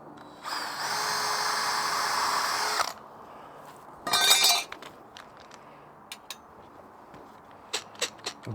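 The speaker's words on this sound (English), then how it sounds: "so I can drill a 1/2 inch hole in each corner" A power drill whines for a few seconds while boring a half-inch hole in wood for an anvil stand, then stops. A short second burst follows, and scattered clinks and knocks come after it, with no speech.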